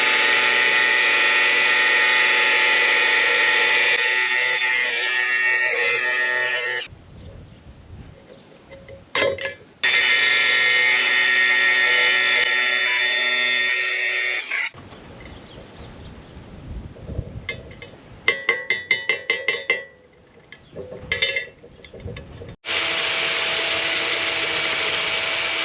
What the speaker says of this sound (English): These will be shot, so we're gonna have to grind these off